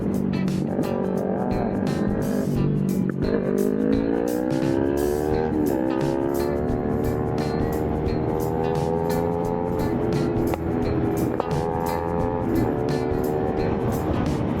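Motorcycle engines drone steadily along a road, with a big bike running close beside an Aerox V3 scooter on a long ride; rising and falling harmonic engine tones hold throughout at constant loudness.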